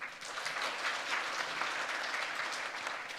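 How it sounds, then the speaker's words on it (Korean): Audience applause welcomes a speaker at a Busan ocean economy forum, a steady, moderately loud spread of many clapping hands that keeps a constant level throughout. "박수로 모시겠습니다."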